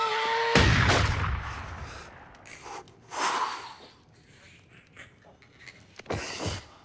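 Shotgun blasts in Doom with the Shotgun-O-Rama mod: a big booming shot near the start, then a few scattered, softer blasts and impacts spread across the following seconds.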